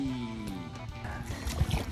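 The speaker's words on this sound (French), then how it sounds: "Et là, j'ai demandé à papa de ramer. Fait que là, j'ai essayé de ramer." Oars row a small boat near a sailboat on the Intracoastal Waterway, with soft irregular splashes and knocks over a gentle wash of water, a low hum beneath.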